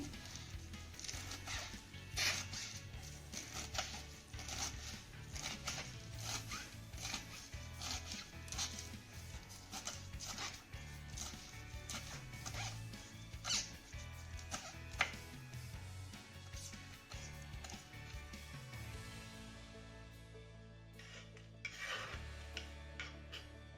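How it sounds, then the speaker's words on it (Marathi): Knife finely chopping fresh fenugreek leaves on a board, a steady run of quick rasping cuts and taps, close and faint, no voices. "ही मेथी आपण चिरून घेऊया तर मेथी आपल्याला अगदी बारीक चिरून घ्यायची आहे"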